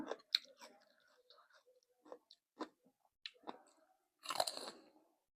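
Crunchy chewing of pickled Thai jujube fruit, close to the mouth, in several separate bites and crunches with short pauses between them and a longer, louder crunching burst near the end, no talking.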